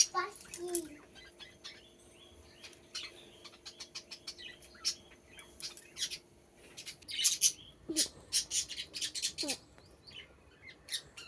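Nearby birds chirp and squawk in quick, irregular bursts, busiest in the second half, with a few longer whistled calls over a quiet background.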